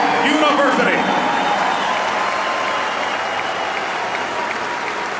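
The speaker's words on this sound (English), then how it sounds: "another round of applause for the only two-time Heisman Trophy winner from the Ohio State University" Large stadium crowd applauding for a two-time Heisman Trophy winner from Ohio State, a continuous loud roar of clapping and cheering with a voice briefly heard over it at the start.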